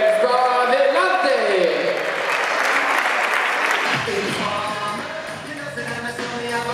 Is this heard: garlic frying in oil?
no